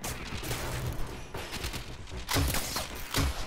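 Rapid gunfire aimed at the player in Warframe, a continuous fusillade with several sharp, loud shots standing out toward the end, close and dense.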